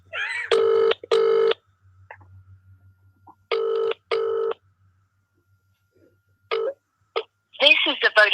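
A phone call placed on a mobile at a charity sleep-out event in Woking: short bursts of keypad tones, then repeated ringing, and a recorded voicemail voice at the end.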